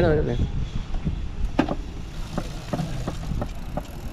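A Novatec bicycle freewheel hub on a mountain bike clicks in slow, evenly spaced ticks over a low background hum.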